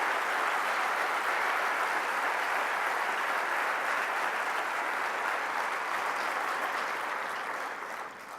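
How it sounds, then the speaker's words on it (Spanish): A large audience at a political rally in Spain applauds loudly and continuously, with thick crowd clapping that eases slightly at the very end. "Quiero pedir, en primer lugar, un fuerte aplauso"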